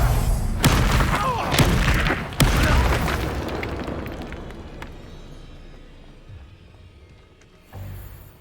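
A Confringo blasting spell explosion in Hogwarts Legacy: a few sharp booming blasts in quick succession, the loudest near the middle, then a long rumbling decay fading out before a final thump.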